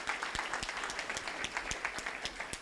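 Applause at a community banquet, a sparse room of hands clapping with distinct individual claps standing out, fairly faint and steady throughout.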